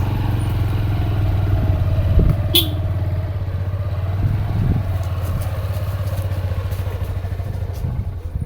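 A motorcycle engine runs and rides steadily through a large hillside mango orchard, a constant low droning rumble with occasional clatter and slight surges, close and continuous throughout.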